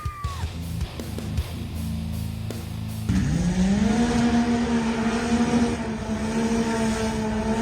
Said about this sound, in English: That thing sounds like a street bike.